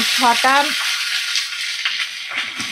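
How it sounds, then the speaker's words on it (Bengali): Chopped raw tomatoes hit a hot pan for a vegetarian dish, giving a loud bubbling sizzle that holds steady throughout, with a brief hum of a voice at the very start. "তো কাঁচা টমেটো দেখো আমি দিয়ে দিচ্ছি"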